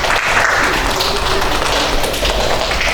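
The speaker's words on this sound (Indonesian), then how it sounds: "Tepuk tangan untuk kelompok 1" A classroom group of teacher trainees claps for the first presenting group, a loud, close burst of continuous hand clapping filling the whole moment without voices.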